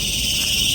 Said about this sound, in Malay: Kamu boleh dengar bunyi cengkerik yang bising tuh